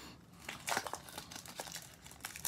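Crinkly plastic wrapping tears off quadruple-wrapped Fleer Flair trading card packs in a run of sharp, close crackling bursts, with no one talking.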